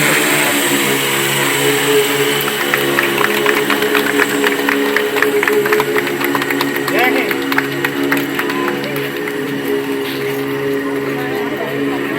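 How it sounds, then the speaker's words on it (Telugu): A steady, high buzzing whine of a medical delivery drone's propellers as it takes off holds throughout, with a crowd clapping and voices mixed in. "బటన్ నొక్కించడంతో రై అంటూ డ్రోన్ చూసుకుపోయింది ఎయిమ్స్ చేరుకునేందుకు"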